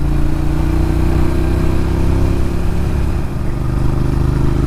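A 2002 Suzuki SV650 Naked, first-generation, drones steadily while being ridden, a loud, close, continuous engine tone held low in the rev range with only a brief dip near the end.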